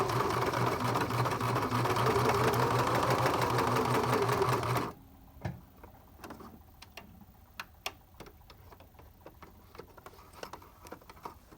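A sewing machine runs steadily for about five seconds, stitching closed the edge of a fabric face mask, then stops, leaving quiet scattered clicks and small handling taps.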